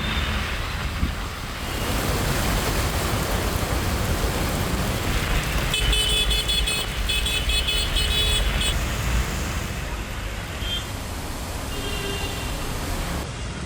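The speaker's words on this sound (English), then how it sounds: "But this is Gurgaon when it rains." Heavy monsoon rain in Gurgaon, a dense steady hiss over the hum of road traffic, with a horn-like tonal burst in the middle and fainter tones near the end.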